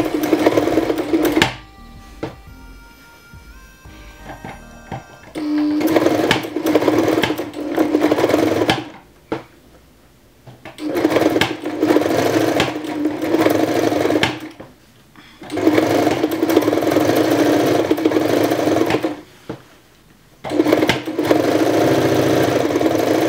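A domestic sewing machine runs in repeated bursts, stitching the 1 cm center front seam of a bow tie dress. Steady whirring runs of several seconds alternate with brief pauses, close and fairly loud.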